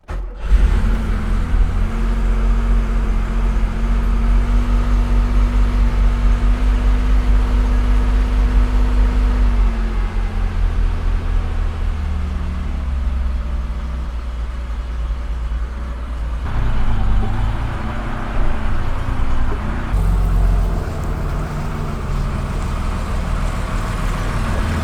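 A restored Porsche 911 Targa prototype engine runs steadily at close range, a loud low rumble and hum that shifts pitch a few times as revs change, with no talking.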